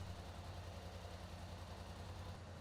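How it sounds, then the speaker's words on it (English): A Can-Am Scrambler XP 1000 S engine idles steadily after an oil and filter change, a constant low rumble with no revving or voices throughout. "Start the engine. Allow it to idle for 1 to 2 minutes."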